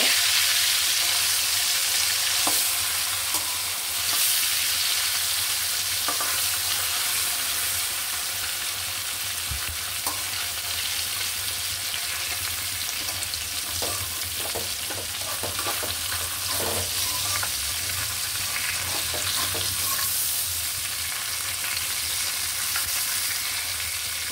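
Koi fish fries in a pan and is flipped partway through, giving a loud, continuous sizzle with scattered scraping and clinking from the turning.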